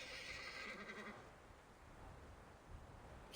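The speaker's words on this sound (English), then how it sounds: "Sounds like a horse to me." A horse whinnies near a windmill, a bright wavering call in the first second that fades into low background noise for the rest of the stretch.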